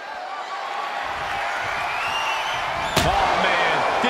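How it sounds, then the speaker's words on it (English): A kendo stick snaps on impact during a WWE 2K24 Ambulance Bikini match, one sharp crack near the three-second mark over a steady roar of arena crowd noise. "Did you hear the snap of the kendo stick?"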